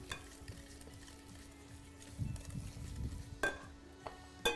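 Oil and sugar stirred by hand in a bowl for a carrot cake batter, a soft scraping and swishing that comes and goes, with a few sharper knocks of the utensil against the bowl near the end.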